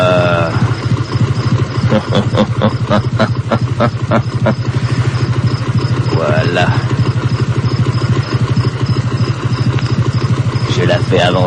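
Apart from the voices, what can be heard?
motorcycle being moved forward, engine idling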